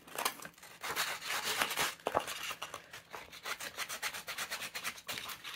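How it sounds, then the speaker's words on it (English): Sandpaper rubs over punched holes in a bookbinding cover, a rapid series of close, scratchy back-and-forth strokes with no talking. "I can take some sandpaper if I want."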